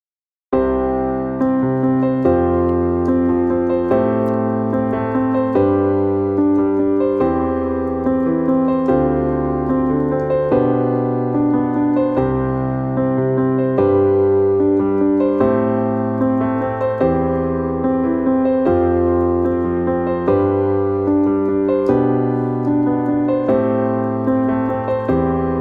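A piano plays a steady worship rhythm pattern, repeating a four-note figure over sustained chords. The chords change regularly on the first and third beats. The sound is loud, continuous and solo, with no voices.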